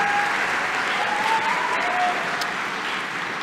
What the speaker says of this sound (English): could you give your families and supporters a big round of applause for themselves